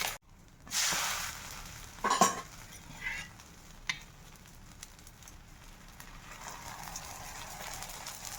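Thin batter fries in oil poured around an iron griddle, a soft low sizzle broken by a few sharp utensil scrapes and clinks early on, fairly faint and close.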